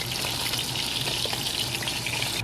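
Leftover eggplant fries in hot oil, giving a steady, dense, close hiss of sizzling with no clear breaks over a couple of seconds.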